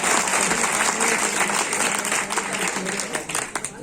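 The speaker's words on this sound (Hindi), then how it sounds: "मैं चाहता हूं एक बार जोरदार तालियों के साथ स्वागत किया जाए।" Audience applause welcoming Amarpal Singh Lodhi at a gathering in Dholpur: sustained dense clapping from a crowd, steady for nearly four seconds and thinning toward the end.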